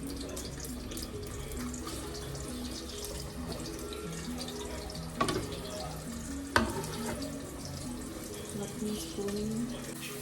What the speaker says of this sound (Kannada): ಇವಾಗ ಎಣ್ಣೆ ಚೆನ್ನಾಗಿ ಬಿಸಿ ಆದಮೇಲೆ ನಾವು ಅವಲ ರುಬ್ಬಿಟ್ಕೊಂಡಿರೋದು ಪೇಸ್ಟು ಇವಾಗ ಈ ಆನಿಯನ್ನ ಫ್ರೈ ಮಾಡ್ಕೊಳ್ಬೇಕು